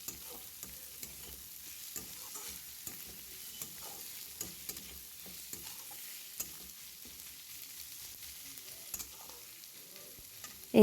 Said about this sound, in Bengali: এবার দিয়ে দিলাম পেঁয়াজ কুচি, দিয়ে ভালো করে এবার এটাকে ভাজা ভাজা করব।